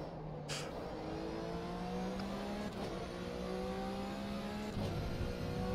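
Flat-six race car engine in an rFactor-style racing video game, revving steadily with rising and falling pitch as the car drives, loud and continuous with no talk.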